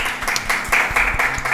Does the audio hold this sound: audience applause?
yes